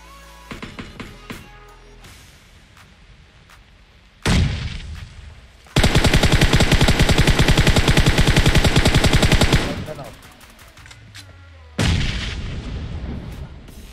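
Rapid gunfire in PUBG Mobile: scattered single shots, then a loud sustained automatic burst lasting several seconds, followed by another heavy volley, close and dominant with no talk.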